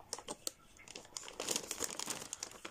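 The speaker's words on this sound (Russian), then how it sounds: "Были запакованы в пакетик. Открываются они очень легко." A plastic packet of wet wipes being opened, with crisp crinkling and tearing bursts close to the microphone in an irregular rhythm, faint and without speech.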